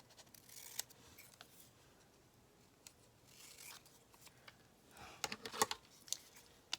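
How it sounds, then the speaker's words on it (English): Scissors snip through a piece of paper during a Christmas card holder and journal craft project, a few sharp crisp cuts grouped near the end with quieter rustling before, fairly faint and close. "And now let's cut this piece off."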